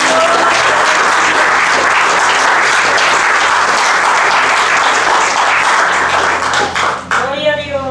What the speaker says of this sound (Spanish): Dele palmas al Espíritu Santo.